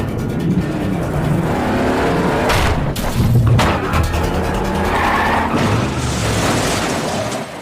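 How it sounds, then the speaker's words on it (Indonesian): A car skids off the road during a movie chase, loud, with engine roar and screeching tires blending into crashing, rumbling impacts that go on for several seconds. "Kite membuat mobil Dongchul terperosok keluar jalan."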